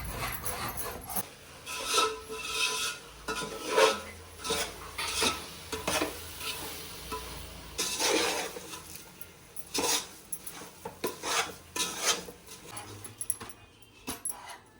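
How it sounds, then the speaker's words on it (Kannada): Coconut being grated by hand for coconut sweets, with repeated rasping strokes in an irregular rhythm, fairly close and moderately quiet. "ಕಾಯಿ ತುರಿತಾಯಿ"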